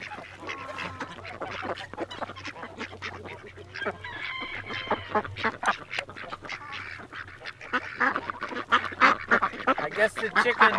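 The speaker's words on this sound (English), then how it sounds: "the chickens are over here" Farm poultry calls with honking, quacking cries rising over a steady low rumble, busy and fairly close throughout, growing louder toward the end, during daily chores on a farm in February.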